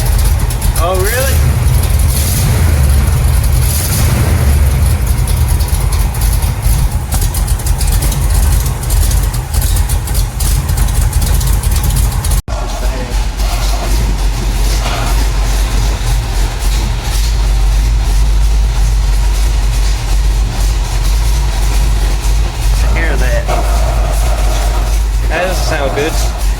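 A 1975 Chevrolet C10 engine runs steadily with a faulty brake booster, giving a loud, continuous low rumble with a brief break midway, while people talk over it.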